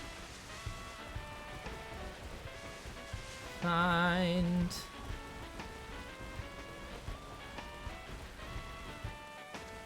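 Steady rain hisses softly in a Pokémon video game beneath looping game music, interrupted midway by one brief, louder chiming tone before the drizzle-like wash continues.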